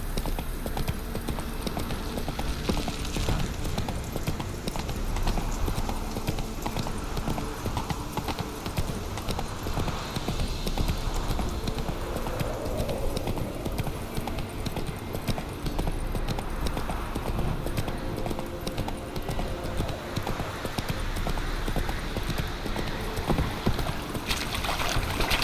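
A horse gallops across terrain in The Witcher 3 video game, with continuous rapid hoofbeats throughout and a wash of ambient outdoor noise underneath.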